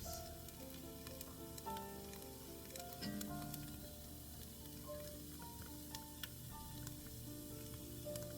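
Garlic and mushrooms hit a hot pan for beef stroganoff, a steady close sizzle and frying hiss with light stirring taps scattered throughout, fairly quiet and with no talking.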